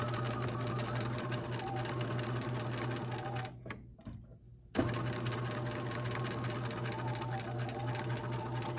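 A sewing machine stitches fabric with a loud, steady motor hum and rapid needle chatter, which stops briefly for about a second before running again.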